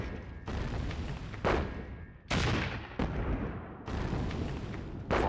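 Artillery fire in Sudden Strike 2, a World War II strategy game battle at Oosterbeek: loud, continuous rumbling volleys with sharp booms breaking in about every second or two, dense and sustained with no voices.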